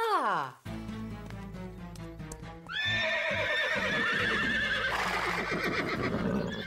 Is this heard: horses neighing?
yes